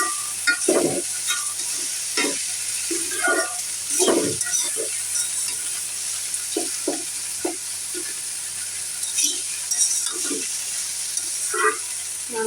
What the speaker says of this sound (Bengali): নাড়া দিয়ে দিব।